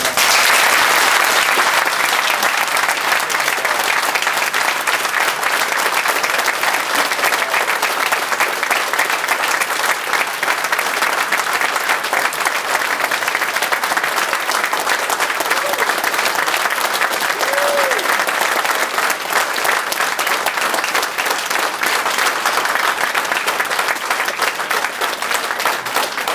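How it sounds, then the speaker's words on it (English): Sustained audience applause at a 2003 farewell roast, a long, even roar of many hands clapping from a large room that holds at full strength throughout with no talk over it. "please give me a nice round of applause for Russ."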